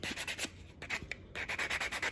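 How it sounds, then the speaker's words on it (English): A nail buffer rubbed across fingernails, rhythmic scratchy strokes in quick bursts with a short pause midway, close and fairly quiet. "the first step is to buff out your nails"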